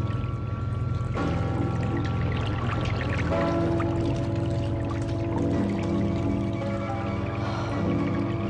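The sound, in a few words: shower water running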